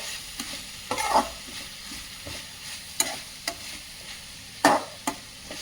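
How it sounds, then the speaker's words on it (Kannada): Bitter gourd palya with coriander leaves being stirred in a pan, a spatula scraping in several distinct sweeps over a faint background sizzle, close and with no voices. "ಕೊತ್ತಂಬರಿ ಸೊಪ್ಪನ್ನ ಹಾಕಿ ಎಲ್ಲ ಮಿಶ್ರಣ ಮಾಡಬೇಕು"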